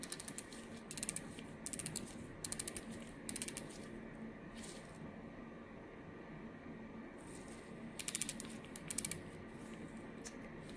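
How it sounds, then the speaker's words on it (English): A Dragonhawk Mast Sensor tattoo pen grip is twisted to adjust needle length, giving bursts of small, close, crisp ratcheting clicks, then a quiet pause, then a few more clicks. "you can adjust the needle length by rotate this"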